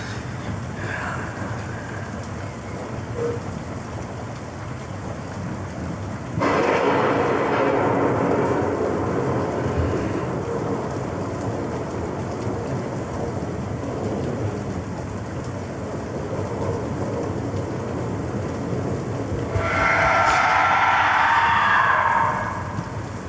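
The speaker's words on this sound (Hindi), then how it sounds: "ये तूफान कब खत्म होगा यार?" Steady heavy rain pours throughout while loud thunder rolls in twice, swelling and fading, close and powerful.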